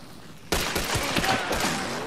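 Sudden gunfire in Hunt: Showdown, a loud crack followed by a cluster of echoing shots over about a second and a half, fairly close, with no talking.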